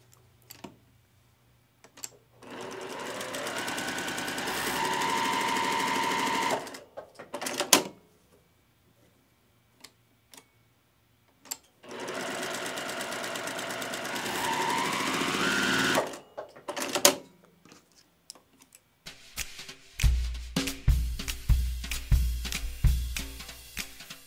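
A sewing machine runs in two long steady bursts of rapid stitching at a 2.0 stitch length on quilt fabric, separated by pauses, followed by some clicking and handling noises.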